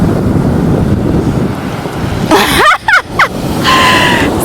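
Strong wind on a private beach in Puerto Rico roars and buffets the microphone loudly and continuously, with surf and faint squeaky sounds in the mix.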